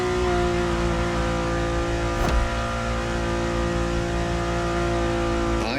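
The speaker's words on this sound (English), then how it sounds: "And the car's voice sounds even better from inside." Ferrari supercar engine in Motorfest heard from the cabin, a steady loud drone with a brief rise in revs partway through, and no talking.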